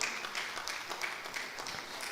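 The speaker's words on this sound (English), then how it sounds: "Please, a round of applause for Mr. Robert Omole." Audience clapping at an annual lecture for speaker Robert Omole, a soft, continuous patter of many hands heard from some distance, even and unbroken throughout.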